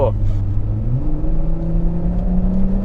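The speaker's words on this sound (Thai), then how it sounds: "เสียงเครื่องหวานจับใจ" A Porsche Cayenne V6 engine revs up from idle, its pitch climbing and then holding a steady, rising hum, with a brief voice at the start.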